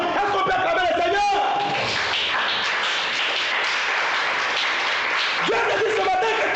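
A church congregation applauds and cheers the Lord, with loud, sustained clapping that swells through the middle and voices rising at either end.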